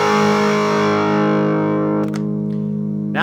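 A distorted electric guitar chord played on the neck pickup rings out loud and close, sustaining and slowly fading, with a couple of brief string scrapes near the end and no talking.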